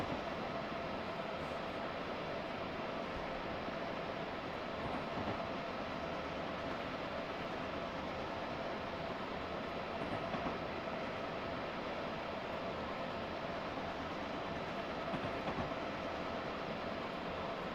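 A continuous, even rumble of a video-game train rolling along the Northeast Corridor toward New Haven, a steady broadband drone with a faint tonal hum and no talking.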